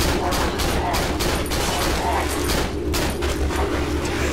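Gunfire in the horror video game Cry of Fear, a rapid burst of repeated shots fired over a steady low game background. A player's voice comes and goes in between.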